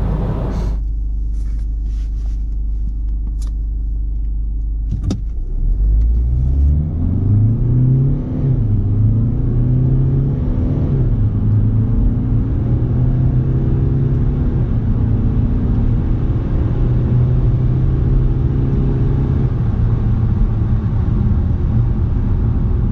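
A facelifted Peugeot 3008 SUV accelerates from 0 to 100 km/h, its engine note climbing steadily through the gears, heard from inside the car as a continuous loud rumble with rising pitch and no talk.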